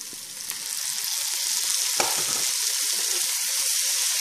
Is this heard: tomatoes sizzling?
yes